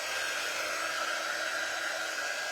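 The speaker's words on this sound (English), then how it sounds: "let me grab my dryer and just see" A hair dryer blowing steadily to dry paint on a pumpkin, a constant loud airy whoosh that stays even from start to finish with no talking.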